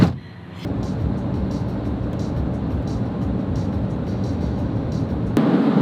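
A steady, loud low rumble of road and engine noise fills the cabin as a van drives along a road in Sweden, broken by a brief thump at the start and a shift near the end.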